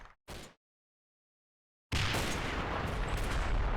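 Gunfire in the WWII game Combat Mission: Battle for Normandy: two short sharp cracks, a brief silence, then a dense sustained roar of shooting and rumbling battle noise.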